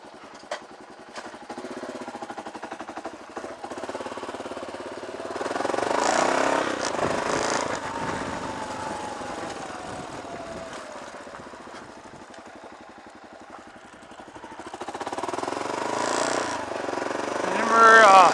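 An old Kawasaki KLR motorcycle engine idles, then revs and pulls away, its drone rising and falling over wind noise, with people talking over parts of it.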